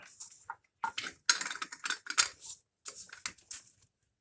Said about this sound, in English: we're gonna use my torque wrench here